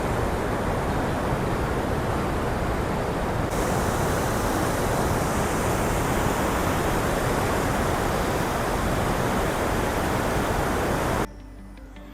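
Water pouring over Gundiyadka (Nagundi) Falls near Moodabidri, Karnataka, makes a loud, close, unbroken roar of rushing water with no voices. It holds steady for about eleven seconds, then drops abruptly to a much quieter hiss.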